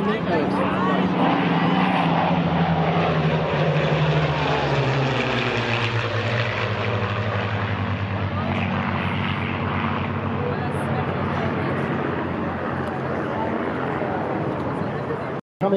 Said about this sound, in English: Check out this next pass from our right. The P-40 and P-51 Mustang from the Erickson.